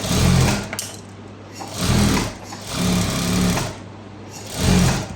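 Sewing machine stitching a blouse lining closed, running in several short bursts of steady mechanical whirring separated by brief pauses.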